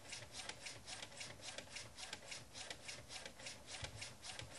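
A flatbed wood block printer spins in real time, giving a close, steady rhythmic rasping rub that repeats quickly and evenly throughout.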